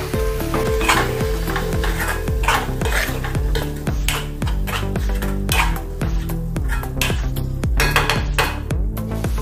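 Spices, garam masala and Kashmiri chili powder, being stirred into sizzling cabbage in a pan for a toor dal and cabbage dish, with a steady loud sizzle and rhythmic scraping clinks of a spoon against the pan.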